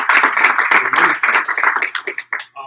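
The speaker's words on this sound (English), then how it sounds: "There's one more round of applause." A short burst of clapping from a group, dense at first and then thinning into scattered claps before stopping.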